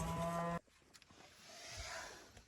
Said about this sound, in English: You can hear the cows, they're hollering.